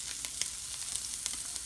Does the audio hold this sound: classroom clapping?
no